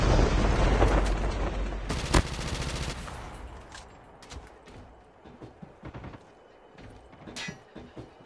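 RPG explosion in the video game Call of Duty: Mobile: a loud, close blast amid heavy gunfire, followed by a sharp burst and then scattered fainter shots and impacts as the noise dies down.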